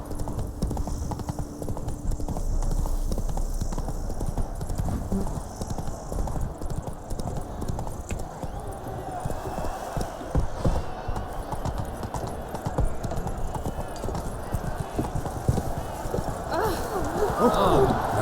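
Geralt's horse Roach galloping in The Witcher 3: Wild Hunt, a steady rapid clip-clop of hooves running on for the whole stretch under game music and spoken voices.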